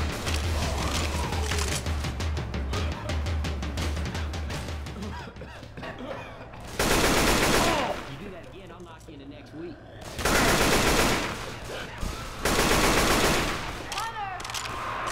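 Left 4 Dead gunfire on Xbox One in versus mode, with dense rapid automatic bursts and repeated loud volleys that come and go across the stretch, while players talk over the shooting.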